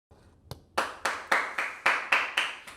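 A few tentative claps give way to a steady, evenly spaced run of about seven sharp hand claps, fairly close and moderately loud, with no talking over them.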